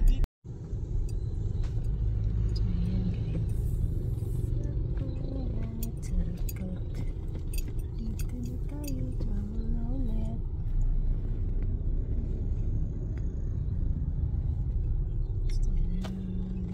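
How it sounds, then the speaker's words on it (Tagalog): Busy road traffic in Calapan, a continuous close rumble of passing cars and motors with scattered clinks and brief horn-like tones, people talking faintly underneath. "Busy traffic ang Calapan."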